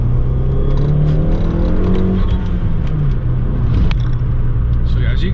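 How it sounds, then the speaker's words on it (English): A modified Fiat 500 Abarth fitted with a bigger turbo accelerates hard in second gear, a loud close engine rumble rising in pitch with whooshing turbo sounds, while someone talks over it. "That was just a little second gear pull, not even full throttle."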